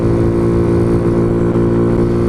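A Kawasaki Z125 motorcycle with a KO aftermarket exhaust runs at a steady loud drone, a close, continuous engine note with no pauses and no talk over it.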